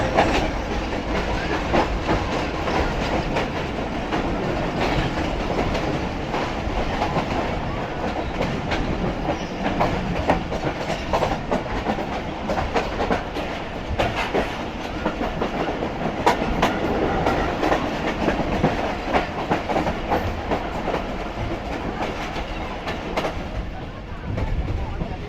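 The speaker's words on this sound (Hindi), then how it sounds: "फाइनली तकरीबन 2 मिनट रुकने बाद ट्रेन निकल रही है लांडी जंक्शन से" Heard from on board the Rehman Baba Express as it pulls out of Landi Junction: a steady rumble with rhythmic clickety-clack of wheels over rail joints, continuous throughout, with voices talking over it.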